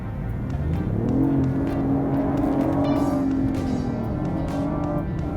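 A BMW i8 in sport mode accelerates hard, its engine note rising loud and steady for several seconds before easing off, with a continuous close-up drone throughout.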